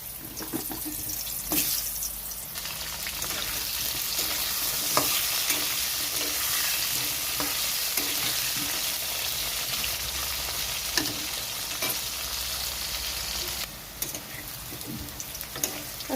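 Pointed gourd and potato frying in oil left over from fried fish, a steady crackling sizzle with occasional stirring scrapes and clicks, close and continuous, without speech.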